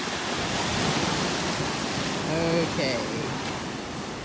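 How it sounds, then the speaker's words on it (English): Ocean waves wash onto a beach shoreline where someone is fishing, a steady, broad rushing surge close by, with one short spoken word heard over it. "Oh, here comes a wave."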